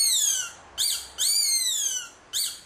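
A čivink, a traditional bird-call whistle once used to lure birds onto lime-coated twigs in spruce branches, sounds in four loud, high, sliding chirps, the longer middle ones swooping up and down, heard alone and close.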